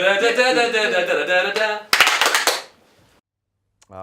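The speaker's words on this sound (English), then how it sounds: "Let's do the clap one more time" Studio audience on a talk show breaks into a short, crisp burst of clapping lasting under a second, right after a stretch of talking, then the room drops to near silence.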